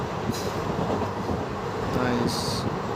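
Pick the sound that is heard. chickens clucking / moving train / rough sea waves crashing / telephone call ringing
moving train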